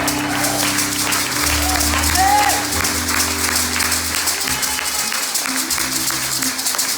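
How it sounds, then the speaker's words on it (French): A church congregation at a Pentecostal service applauds loudly and steadily, with continuous dense clapping and crowd noise, rising briefly and then holding at full strength. "Maintenant, acclamez, acclamez, acclamez."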